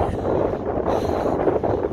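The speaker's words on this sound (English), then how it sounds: "It's very windy." Strong gusting wind buffets the microphone near sand dunes in Colorado's San Luis Valley, a loud continuous roar with low rumble throughout.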